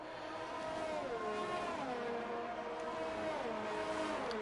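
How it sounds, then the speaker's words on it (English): A Ferrari race car in a racing video game accelerating down the straight at Spain, its engine note climbing steadily in pitch through gear changes, a smooth continuous whine heard fairly close and alone. "Ferrari power down the straight."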